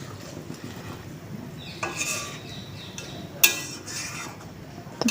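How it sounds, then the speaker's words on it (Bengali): Water splashes and pours from a rinsed spice bowl into a cooking pan, with soft clinks of metal and ceramic and a sharp knock partway through, all fairly quiet. "তো মশলার বাটিটা ধুয়ে একদম জল দিয়ে দিচ্ছি"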